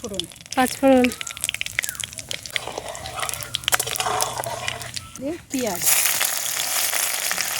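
Dried chilli and onion dropped into hot oil in a wok for a boal fish kalia burst into a loud, steady sizzle near the end. Someone talks throughout, before and over the frying.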